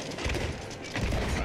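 Cannon fire rings out during a chaotic Sea of Thieves naval fight: a dense, rapid run of heavy booming shots and crashes, loud and continuous across the whole moment.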